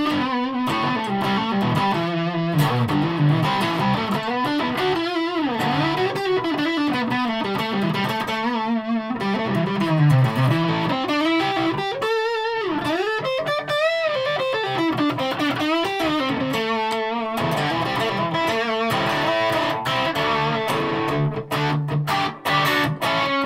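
A Gibson Les Paul 50s Tribute electric guitar through an overdriven valve amp's dirty channel, without reverb, plays a continuous melodic line with a gritty, saturated tone, loud and close, with no talking.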